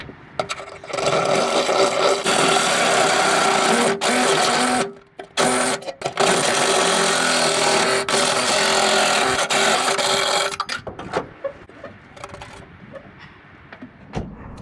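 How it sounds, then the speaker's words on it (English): A power drill boring a hole through a Nissan 350Z car firewall during a Hellcat swap, a loud continuous whirring grind that runs on with a short pause and then tapers into lighter scraping near the end. "I am going to figure out where I'm drilling this hole"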